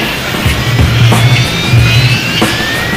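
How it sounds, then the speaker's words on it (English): A Harrier jet engine roars with steady thrust while the aircraft hovers, a loud continuous broadband rush with a rising whine and low throbbing pulses underneath. "that's how a Harrier hovers in the air"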